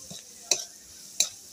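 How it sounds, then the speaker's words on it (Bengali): Onion, garlic and turmeric fry quietly in a pan, a faint steady sizzle punctuated by two sharp utensil clicks against the pan, with no voices. "পেঁয়াজ আর রসুনটা ভালো করে ভেজে নিয়েছি"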